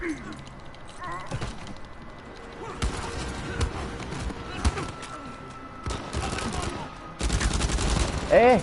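Bursts of rapid gunfire from the Uncharted 4 video game, with scattered single shots and heavier volleys building toward the end, mixed with game sounds and occasional voices.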